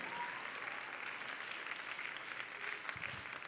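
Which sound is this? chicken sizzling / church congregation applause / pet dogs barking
church congregation applause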